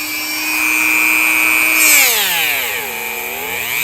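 A motor-driven buffing wheel spinning against a Savage 93R17 rifle bolt with polishing compound, a loud steady whine that dips in pitch midway as the load increases, then settles, close and without talk.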